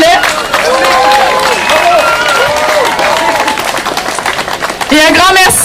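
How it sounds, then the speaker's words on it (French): Crowd applause and cheering for chansonnier Denis Beaumont at a Journée des Patriotes gathering, a loud mass of clapping with voices calling out over it throughout. "On l'applaudit très fort, s'il vous plaît."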